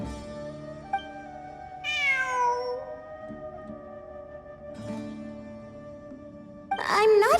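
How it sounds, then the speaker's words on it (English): A cat in the game Genshin Impact meows in a few drawn-out, wavering calls, fairly close over soft game music, with a louder yowl near the end. "It really is a cat."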